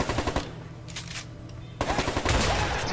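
Bursts of automatic gunfire from the co-op prison-escape video game A Way Out, rapid rattling shots loud and close, with a short quieter gap before the firing resumes densely.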